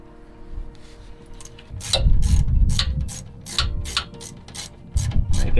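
Repeated ratcheting clicks as a hose clamp is tightened on a car radiator's bottom hose, about ten sharp, evenly spaced pawl clicks over a low mechanical rub, close and fairly loud.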